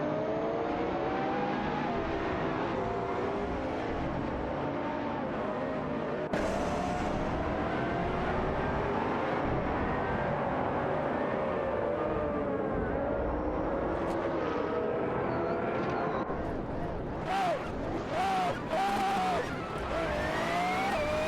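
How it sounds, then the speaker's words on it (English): A race car in a motor race speeds away, its engine a loud continuous roar with rising and falling revs and shifting pitch sweeps throughout, and a few sharp bursts near the end. "Racing car dashing away."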